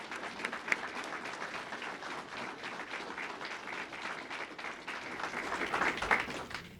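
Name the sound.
audience applause at police awards ceremony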